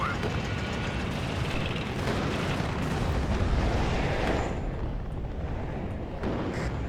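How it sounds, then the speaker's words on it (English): Artillery fire striking a tank position in the Cold War strategy game WARNO, heard as a dense, continuous roar of distant rumbling blasts and explosions that stays loud throughout, with no talking over it. "We do have artillery fire hitting our position now, and it did take out several tanks."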